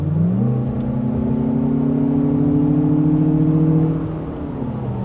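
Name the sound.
Lexus RX500h F-Sport hybrid with synthetic fed-in engine noise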